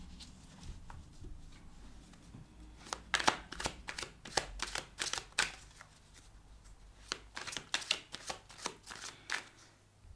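Tarot cards being shuffled by hand, a series of crisp riffling and slapping bursts close up, irregular and alone, with quiet handling between them.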